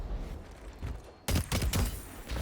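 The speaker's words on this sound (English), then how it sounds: "You know, the scout rifle ain't all too bad. Feels good to shoot." Scout rifle gunfire in the video game Destiny, Crucible multiplayer, with faint distant shots at first, then a burst of several loud, close, sharp shots in quick succession.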